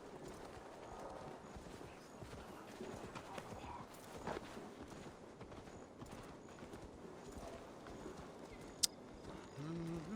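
Horse hooves clip-clop steadily in the Viking-era open world of Assassin's Creed Valhalla, a faint continuous trotting rhythm set under a low ambient background with a brief sharp click late on.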